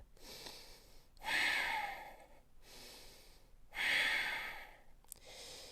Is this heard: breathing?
yes